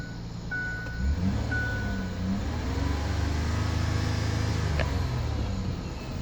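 Ford Five Hundred idling steadily and fairly quietly after an exhaust leak repair and a fixed misfire, a continuous low engine hum with light background noise and no talking.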